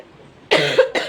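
Two close, harsh coughs from a person with a cold in quick succession, loud and abrupt after a brief quiet moment.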